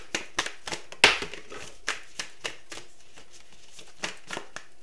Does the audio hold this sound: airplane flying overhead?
no